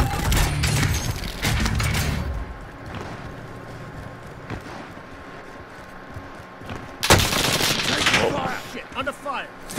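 Video game gunfire in Call of Duty Warzone, with bursts of automatic fire close at the start and again near the end, fainter shots between and voices talking over the action.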